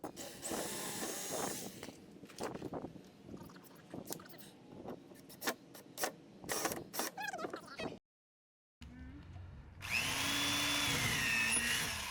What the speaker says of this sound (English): Screws are used to assemble the bin because they are easier than nailing